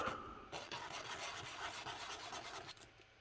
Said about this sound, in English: if you wanted to, you can use grittier sandpaper